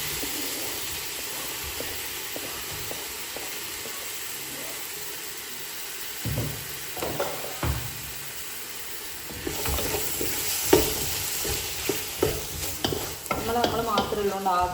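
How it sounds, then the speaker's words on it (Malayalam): Tomatoes go into softened onions frying for chicken curry, bringing a continuous sizzle and hiss; stirring scrapes and knocks grow busier and louder in the second half. "നമുക്കിനി തക്കാളി ആഡ് ചെയ്ത് കൊടുക്കാം."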